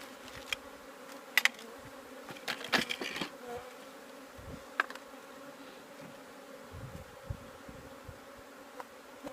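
Honey bees buzzing around an open hive while it is being rearranged for queen rearing, a steady close drone with scattered clicks and taps of hive parts.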